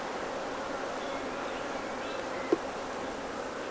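Honeybees buzzing in an open hive while the brood frames are lifted out for inspection, a steady dense hum throughout with one brief louder tap or click partway through.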